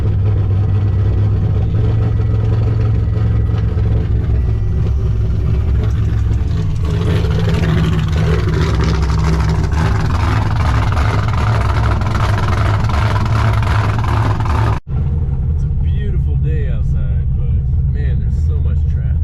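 A car engine runs steadily with a deep rumble while it warms up, rising in intensity partway through before a brief cutout, and someone talks over it throughout.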